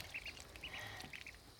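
Ducklings on their first swim give soft, high peeping quacks in short repeated pairs, faint and close against quiet background noise.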